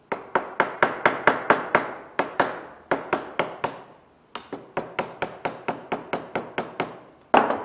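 A hammer strikes a chisel into wood, cutting the socket of a dovetail joint: two bursts of about a dozen sharp, evenly spaced, close knocks, with a brief pause between and a final blow.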